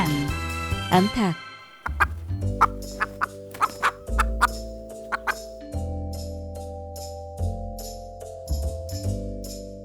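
A hen clucks in a series of short, sharp calls over a steady musical backing, fairly close and clear, in a farm-animal learning setting.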